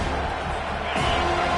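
Home crowd noise swells and roars in an American football video game as the defense tries to get off the field on third down, a steady dense crowd wash that grows louder partway through.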